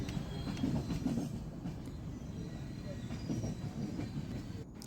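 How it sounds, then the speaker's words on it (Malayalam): A train approaching Kozhikode railway station rumbles steadily with rattling wheels and faint squeals as it rolls along, a continuous low roar with no clear pauses. "train Kozhikode railway സ്റ്റേഷനോട് അടുത്തുകൊണ്ടിരിക്കുകയാണ്"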